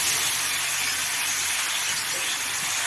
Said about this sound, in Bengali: টমেটোটা গলে গেছে, দিয়ে দিচ্ছি পেঁয়াজগুলি।